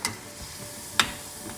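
Pumpkin puffs fry in hot oil with a steady soft sizzle and occasional sharp crackles, one louder pop standing out midway. The sound is close and quiet, and no one speaks.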